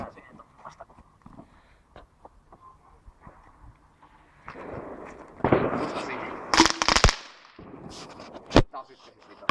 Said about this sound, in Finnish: Räjähti koko paski.